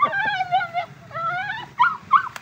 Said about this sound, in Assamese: কুকুৰে বিয়া নাম দি আছে